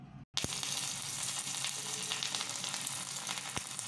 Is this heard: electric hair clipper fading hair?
no